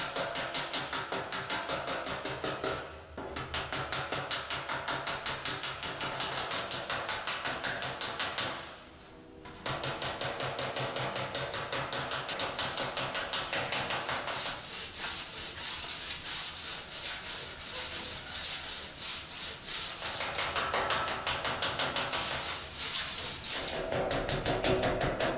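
Body file scraping back and forth across a galvanized steel panel: a steady, close, gritty rasp repeated in long strokes, with two brief pauses, no voices.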